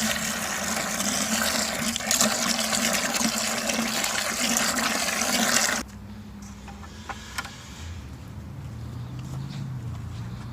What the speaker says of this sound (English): I'm going to add some water to this, and we're going to soak those asparagus crowns.